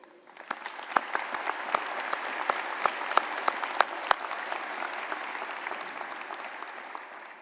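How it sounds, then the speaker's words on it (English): A commencement audience applauds steadily, a broad wash of many hands clapping with a few sharper claps standing out, sustained throughout and fading slightly at the end. "they also deserve a gracious applause for making today a memorable and special occasion"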